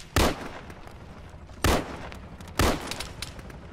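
Three loud, sharp gunshots from the Arma military game, spaced about a second apart, each ringing out with a short echoing tail over low background battle noise.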